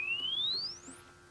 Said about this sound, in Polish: Ten krótki gwizd umożliwia zbadanie czterech parametrów: skuteczności, częstotliwości, poziomu szumów i polaryzacji.